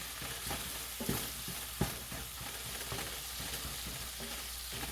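Ground beef fries in a skillet with a steady low sizzle, while a utensil stirs and chops it, giving occasional soft scrapes and taps against the pan.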